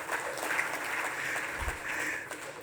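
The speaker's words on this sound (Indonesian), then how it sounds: "tepuk tangan untuk buat kita semua." Audience applause at a mining-industry corporate event, fairly faint and distant, a continuous wash of clapping that holds steady without voices on top.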